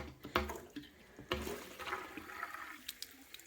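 Water gushes and gurgles through a siphon tube draining a fish tank into a bucket, with a couple of sharp knocks early on, then a steady trickling flow continuing to the end.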